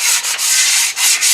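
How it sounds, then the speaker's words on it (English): A block sander rubs across the metal lip of a Tremec T56 Magnum six-speed transmission in quick, loud, close strokes, four or five rasping passes separated by brief pauses. "sand this down in case there's any burrs on it or any type of imperfections on this lip or edge"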